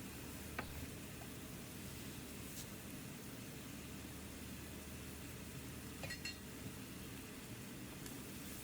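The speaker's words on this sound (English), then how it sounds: "So cook your ground pork until it cooks thoroughly" Ground pork sizzles steadily in a pan, a constant frying hiss with occasional faint clinks and stirring sounds.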